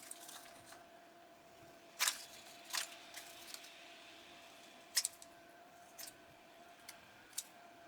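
Scissors cut out PCB designs printed on photo paper, giving sparse, crisp snips spread irregularly across a quiet background, a couple of them sharper and louder than the rest.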